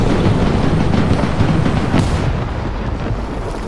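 Tank ammunition rack detonating in the War Thunder tank game, a loud dense roaring blast with a sharp burst near the two-second mark, then sustained rumbling fire and wind-like noise throughout.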